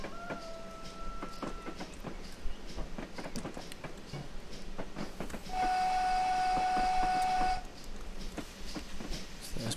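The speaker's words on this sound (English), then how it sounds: "Sounding of the whistle." A steam locomotive whistle in Train Simulator 2018 on the Swindon–Highworth branch gives one steady, loud blast lasting about two seconds, over the chuffing and rolling of the train; there is no speech.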